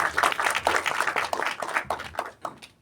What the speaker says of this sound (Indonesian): Kita beri tepuk tangan sekali lagi buat Mas Dian dan Mas Ilmi.